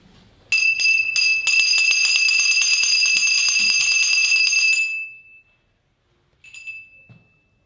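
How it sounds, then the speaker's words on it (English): A bright metal bell rings repeatedly with quick strikes for about four seconds, its tone fading out, then a single softer ring follows after a short silence. "So I will ring this bell"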